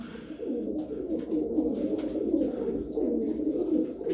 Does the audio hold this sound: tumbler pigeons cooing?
yes